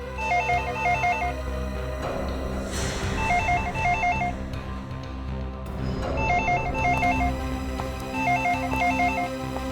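An old-style telephone bell rings in repeated bursts of trilling rings in a TV crime drama scene, spaced evenly over a steady background of music.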